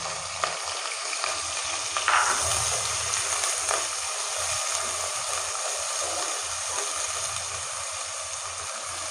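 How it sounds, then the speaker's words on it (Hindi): Onions fry in hot oil, giving a steady, moderately loud sizzle that runs the whole time, with brief bursts of stirring and no voices. "प्याज को हमेशा गर्म ऑयल में डाला करें ताकि हमारे प्याज जल्दी फ्राई हो जाए।"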